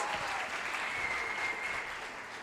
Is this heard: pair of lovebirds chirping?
no